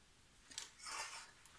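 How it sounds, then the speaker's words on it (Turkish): Scissors snip through yarn after a knitted sweater is finished, giving a few quiet, close crisp cuts over about a second with no talking. "İpimi de kesiyorum ve bir tane düğüm atıyorum."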